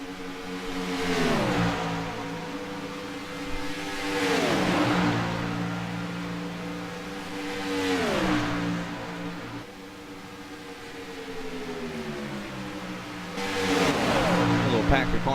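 A pack of race cars roars past at Talladega in the iRacing video game, with engine notes rising and falling as cars sweep by in repeated waves, loud and close, with commentary over the top.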